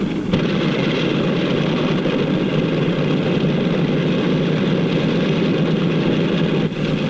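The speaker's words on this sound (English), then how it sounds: "The plane starts over to the runway." A 1940s propeller airliner's engines drone loudly and steadily as the plane begins taxiing toward the runway, a constant close engine roar with no speech.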